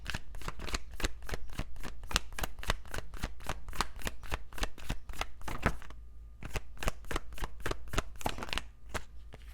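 A deck of oracle cards is riffled by hand in rapid, even bursts of crisp flicking, close and clear, with a brief pause before the shuffling resumes.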